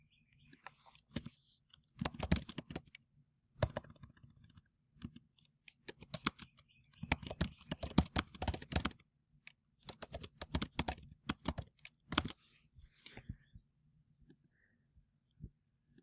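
Typing on a computer keyboard, irregular bursts of quiet close key clicks separated by short pauses, with no voice.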